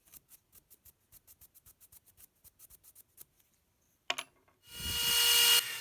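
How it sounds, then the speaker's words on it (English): A felt buffing wheel spins up on a Dremel motor tool's flex shaft to polish guitar frets, a loud steady whir rising after a run of small tapping and scraping sounds. "I'll do that with a felt buffing wheel, which is chucked into the flex shaft on my Dremel motor tool."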